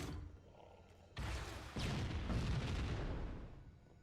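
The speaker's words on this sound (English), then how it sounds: "That was a completely reasonable use of a rocket." A rocket launcher fires in Halo: Combat Evolved, and a booming explosion quickly follows. The blast swells into a loud, rumbling roar that lingers and then slowly fades.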